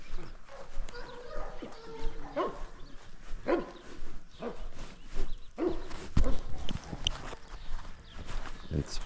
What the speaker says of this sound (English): I got dogs up here